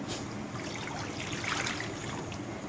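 Water pours steadily into a kadai set on the stove while bitter gourd is being prepared, a continuous near trickle and splash running the whole way with no talk.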